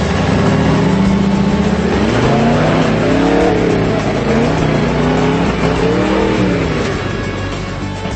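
Rock crawler engine throttling over the granite boulders of Katemcy Rocks, revving hard and fluctuating in pitch as it climbs, loud and close with a steady roar throughout.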